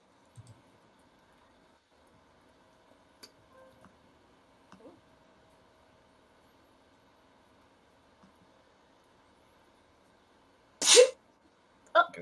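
A sharp sneeze bursts out near the end of a quiet stretch during a casual online Uno game chat, followed by a second shorter one, loud and close after near silence.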